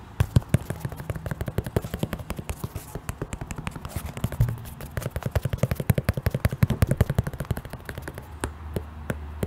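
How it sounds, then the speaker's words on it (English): Rapid fingernail taps on an Air Jordan 4 Mushroom sneaker in beige, a dense run of crisp close clicks that keeps going without pause for the whole stretch. "Let me give you guys some taps."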